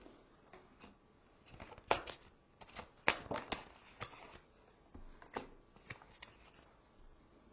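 Oracle cards, including a Down to Earth Oracle deck, are shuffled by hand in soft riffling bursts with a few sharper slaps, quiet and close, with no talking.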